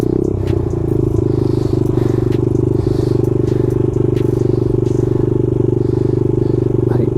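A dirt bike engine runs in gear while the bike creeps forward, producing a loud, close, steady low drone with a fast, even pulse that holds throughout.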